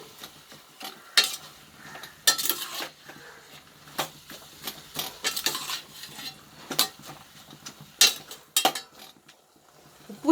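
Mint leaves are stirred and sautéed in a pan for mint tomato chutney, a metal spoon scraping and clinking against the pan in irregular close bursts over a faint sizzle, with no talking.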